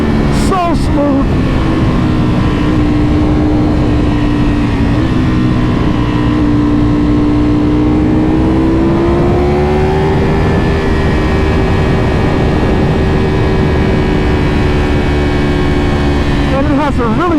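A Ducati Panigale V4 R or BMW M 1000 RR superbike engine roars loud and continuous, its pitch rising and dipping through quickshifter gear changes as the motorcycle accelerates.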